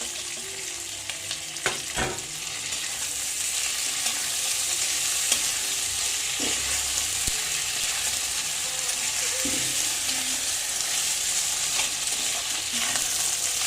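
Steady loud sizzling of potato and tomato frying in hot oil with ginger-cumin paste, with occasional soft scrapes of a spoon stirring; continuous and close, no voices.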